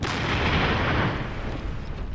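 Loud, heavy crash from a test explosion of an ancient bomb, a dense booming burst that fills the clip and slowly decays.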